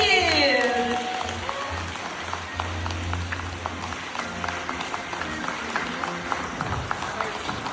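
Audience applause at a televised Ukrainian concert show, a dense patter of many hands clapping that starts after a brief tonal sound and carries on steadily throughout.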